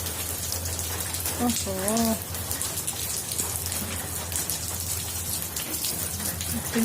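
Dense, steady downpour of heavy rain pattering on surfaces, with a brief voice in the background near the start.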